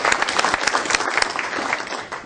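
Audience applause at a school district foundation superintendents' breakfast, steady dense clapping from a crowd filling the room throughout, close and even with no talk over it.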